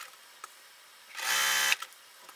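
A sewing machine runs in one short, steady burst, about half a second long, while chain piecing quilt squares, standing out loud and close against a quiet background with a few faint clicks around it.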